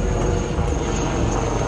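A helicopter flies overhead near Jaisalmer during an air force festival, a loud steady rotor and engine drone filling the background without pause and with no talking over it.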